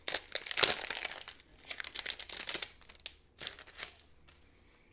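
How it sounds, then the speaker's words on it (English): Plastic packaging of a sticker pack being opened up close, with bursts of crisp crinkling and tearing in irregular handfuls, fading to quieter rustles near the end, no talking. "let's go ahead and open the stickers"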